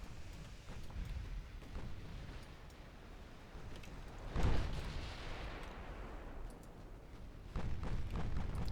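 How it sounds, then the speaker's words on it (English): Distant naval gunfire from the battlecruiser Maya's 14-inch guns in the naval warfare game Ultimate Admiral: Dreadnoughts, with low rumbling booms and one heavier thump in the middle, all fairly faint under a continuous roar. "The Maya is still firing at the battleship with her 14s."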